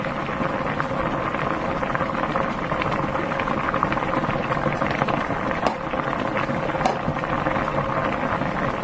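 Kimchi stew simmers in a pot with a steady soft bubbling, close and even, with a couple of faint clicks.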